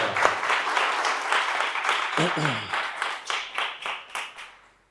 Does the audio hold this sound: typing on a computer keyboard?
no